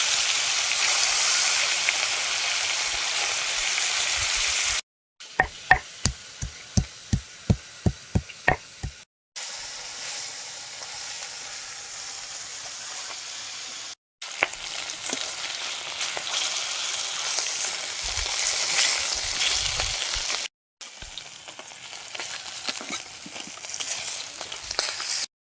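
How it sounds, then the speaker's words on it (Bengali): Japanese puti fish frying in hot oil, a loud steady sizzle split into several segments, one with a quick run of sharp rhythmic taps, then the bubbling hiss resumes. "মাছগুলো এবার ভেজে নেবো।"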